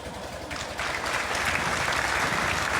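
Loud audience applause at a community awareness gathering welcoming a speaker, dense continuous clapping that swells slightly after the first second and holds steady.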